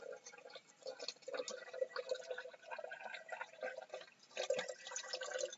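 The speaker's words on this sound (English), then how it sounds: "I am pouring my tea." Hot water poured into a cup for tea gives a faint, close trickle with small splashes and drips, rising and falling unevenly, heard alone without talk.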